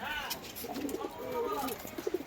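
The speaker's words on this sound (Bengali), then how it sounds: "আর পায়রা খাঁচার ভেতরে আছে বন্ধুরা, আপনাদেরকে দেখাবো।" Pigeons kept in a cage coo softly in low, rounded calls, several overlapping across a couple of seconds, faint and close against background noise.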